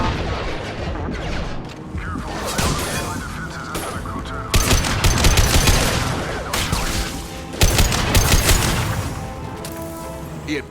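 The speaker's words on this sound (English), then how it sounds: "Taking heavy fire." Heavy gunfire in Mass Effect 2, bursts of rapid shots and blasts hitting in loud clusters around the middle and near the end, mixed with other combat noise and brief voices.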